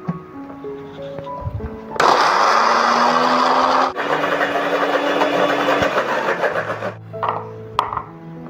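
A blender grinding orchid fertilizer ingredients roars to life and grinds steadily for several seconds, briefly pausing and restarting, then stops, with small clinks before and after.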